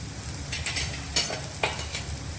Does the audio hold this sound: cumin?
yes